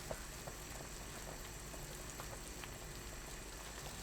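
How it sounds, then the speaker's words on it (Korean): Chicken soup bubbles in an uncovered pot at a full boil, a steady, dense, low-level bubbling and popping that continues evenly from start to finish, close and fairly quiet. "뚜껑 열어둔 상태로 계속 끓이면 돼요."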